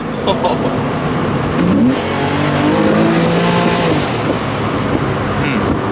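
A Porsche 911 accelerates hard with rising engine tones broken by abrupt gear shifts, loud and close from inside the car, with wind and road noise beneath.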